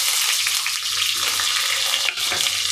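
Onions sizzle steadily in hot oil for chicken curry, a loud, continuous frying hiss with faint stirring scrapes and no voices.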